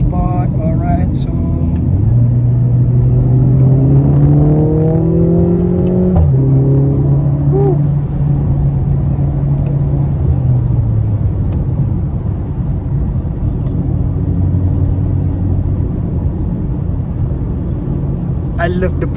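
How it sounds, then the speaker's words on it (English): A 2023 Mercedes-AMG A 45 S facelift on a road drive, its engine climbing under acceleration and then easing off, heard from inside the cabin, with a loud steady drone and faint pops. Talk runs over it. "I love the popping sound from the exhaust."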